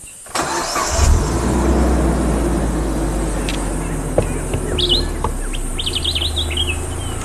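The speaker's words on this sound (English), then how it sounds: "Beautiful bird calls." Birds call and chirp in quick bursts over a steady running vehicle engine in the background during a live safari drive, with a brief faint voice now and then.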